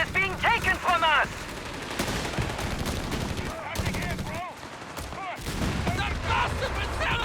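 Anti-tank gun firing in Company of Heroes 3 amid ongoing battle noise, sharp shots and rattling fire with booms scattered throughout, over layered game sounds and a brief chirping tone at the start.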